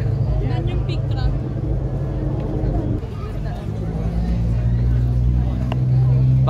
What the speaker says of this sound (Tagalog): Yan yung big truck.